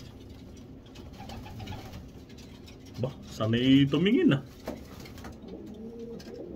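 A pigeon coos in a short burst of low, throaty notes partway through, with a person speaking briefly nearby.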